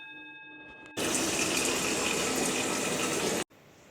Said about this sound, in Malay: Kita isi air.